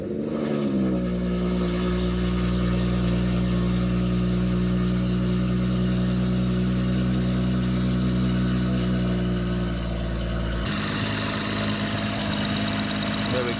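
A BMW M140i engine starts after a Dorch stage 2 fuel pump upgrade and settles into a steady, close idle with a strong low rumble, a faint rev near the start and a change in background noise toward the end.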